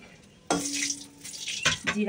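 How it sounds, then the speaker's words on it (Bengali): Two dried red chilies drop into hot oil in a wok and burst into a sudden loud sizzle after a quiet start, followed by continuous hissing and crackling with a brief clink of a utensil near the end. "তেলের মধ্যে কড়াইতে দুটো শুকনো লঙ্কা দিয়ে দিলাম"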